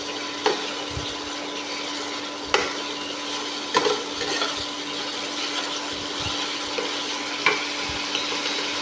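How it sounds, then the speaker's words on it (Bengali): Pabda fish curry in a Bengali tel jhal preparation sizzles and fries steadily in a pan, with a spoon scraping and stirring in occasional knocks, close and continuous, no voices. "এবার এটাকে ভালো করে আরও কষিয়ে নেব।"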